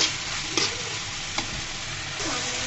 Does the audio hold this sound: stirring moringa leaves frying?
yes